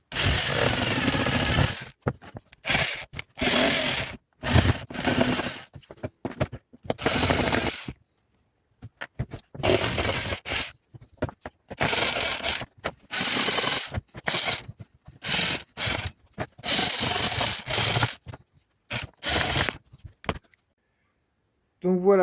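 A power tool drills holes and cuts a long KTM rear mudguard being fitted to a Sur-Ron Light Bee, in repeated loud bursts separated by short pauses.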